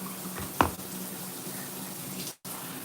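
Water runs from a faucet while someone washes their face in a shower, a steady hiss with one brief splash and a sudden cutoff near the end.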